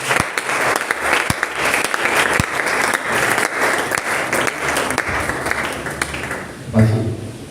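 A church congregation breaks into loud, sustained applause, dense clapping with sharp individual claps standing out, fading at the end as a voice begins.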